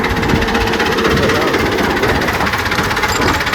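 A Fiat 640 85 hp tractor engine runs close and loud with a steady, rapid knocking pulse, a continuous diesel clatter filling the whole stretch.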